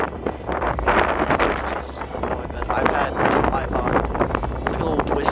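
Strong wind under a storm cloud while storm chasing across the Corn Belt, buffeting the microphone with a loud, continuous gusting roar throughout; a voice talks underneath.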